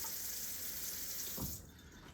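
Tap water runs steadily into a sink while food items for spam musubi are wetted, a continuous broadband rush that stops abruptly near the end.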